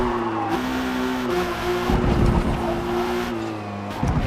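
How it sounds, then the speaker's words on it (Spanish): A 1998 Toyota Supra RZ engine in a racing game holds a loud, steady droning rev near its limit, with pitch shifts between gears and faint tire squeal underneath. "Y me fascina el sonido del motor, sobre todo cuando lo llevo al límite de revoluciones"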